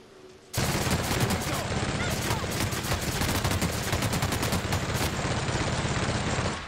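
Sustained automatic gunfire from The Outer Worlds bursts in after a brief quiet start, a loud continuous rattling barrage with no pause until the end.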